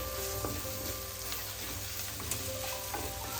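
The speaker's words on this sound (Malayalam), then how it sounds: "ഇതിലോട്ട് പച്ചമുളക് കൊണ്ട് നമുക്ക് ഇട്ട് കൊടുത്തേക്കാം. അവിടെ നിന്ന് വാടി വരട്ടെ." Green chilies sizzle and fry steadily in hot oil in a pan for Kerala-style shrimp roast with ginger and garlic, a close, continuous crackling hiss with occasional stirring taps and no talking.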